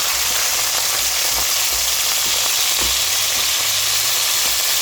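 Spring onions stir-frying in a hot pan on high heat, giving a loud, steady sizzle with occasional soft knocks of stirring, no voices.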